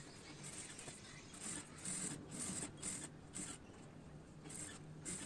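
A sewing machine slowly stitches piping onto a blouse in short, faint whirring bursts separated by brief pauses, with no one speaking.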